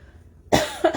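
A single harsh cough bursts out after a moment of quiet, followed quickly by a second shorter cough, close and fairly loud.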